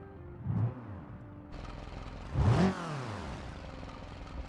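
Turbocharged four-cylinder car engine in a video game, with a turbo running up to 2 bar: a rough, faint idle broken by two short rev blips, playing alone.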